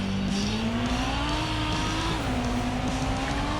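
A video-game F1 car pulls out of the pits at the 2018 German Grand Prix on medium tyres. Its engine gives a loud, continuous whine that climbs steadily in pitch, with no commentary over it.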